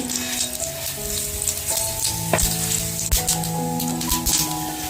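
Mustard seeds sizzling and popping in hot oil in a pan for a Konkan-style alu vadi, a steady crackling fry with sharp pops and a few clinks of utensils close by.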